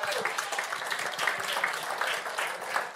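A crowd claps steadily in a dense, continuous round of applause at moderate volume, with no voices standing out.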